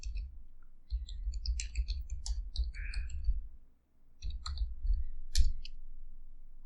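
Sharp computer mouse clicks come in small irregular clusters while someone aligns paragraph text, with a short quiet gap midway and a low background hum throughout.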